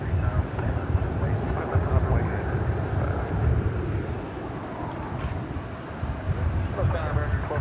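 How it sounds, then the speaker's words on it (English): A Boeing 737 from San Jose touches down at DFW airport on a hot day, a broad, steady jet rumble with wind noise that swells and eases over several seconds, under some background talk. "here comes another 737, which is just about to touch down from San Jose, California, on Runway DFW"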